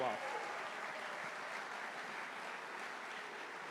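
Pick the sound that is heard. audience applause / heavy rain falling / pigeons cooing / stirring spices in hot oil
audience applause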